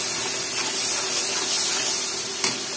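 Chili, ginger-garlic paste and meat spices fry in hot oil for a beef and raw jackfruit curry, giving a steady, close hiss and sizzle that runs unbroken throughout, with a faint stir near the end.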